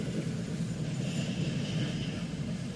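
A freight train hauled by three locomotives rolls past with no horn, a steady low rumble of wheels and cars, even and sustained, heard from nearby.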